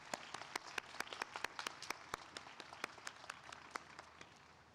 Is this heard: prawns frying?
no